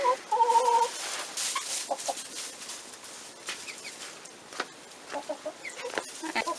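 A rooster and young teenage chicks cluck and chirp in a cold-weather coop, with a clear call near the start followed by scattered soft clucks and peeps at moderate distance.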